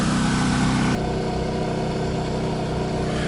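A Champion 3400 RV generator runs at full throttle with a loud, steady engine drone and a constant hum; a sudden drop in level about a second in leaves a slightly quieter, even running tone.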